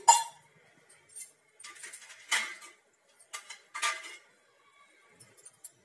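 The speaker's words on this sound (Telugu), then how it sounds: "ప్యాను స్టవ్ మీద పెట్టి కొద్దిగా ఆయిల్ వేసుకొని" A metal pan is set down on a stove, giving a few separate clinks and knocks spaced across a quiet kitchen, close and moderately loud with silence between the hits.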